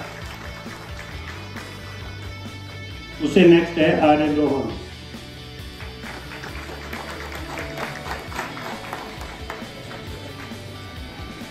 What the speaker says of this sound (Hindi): जोरदार तालियों से स्वागत करें तनीषा